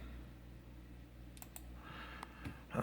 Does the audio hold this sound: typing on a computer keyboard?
yes